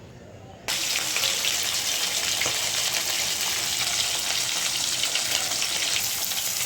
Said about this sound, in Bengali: কড়াইতে তেল দিয়েছি তেলটা গরম হয়ে গেছে এখন এই মাছটা মেখে নিয়ে ভেজে নিব